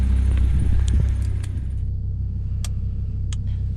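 A 2007 Volvo S40 T5 with many faults idles with a low steady engine rumble, while keys jangle in a few short, bright bursts close by.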